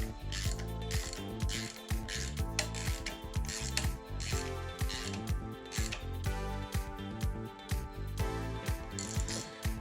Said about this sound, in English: Gonna just try and center this out, and we'll snug up these two bolts.